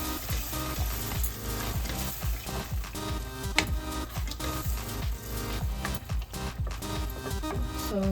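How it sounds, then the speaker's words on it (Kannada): Masala with yogurt frying in a pan, giving a steady bubbling sizzle that runs on continuously at close range, fairly dense and even throughout. "ಫ್ರೈ ಮಾಡ್ಕೊಳ್ಳೋಣ."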